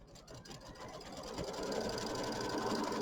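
An embroidery sewing machine stitches the batting placement line for a mini quilt, a steady mechanical whirr that builds in loudness and holds, with no talking.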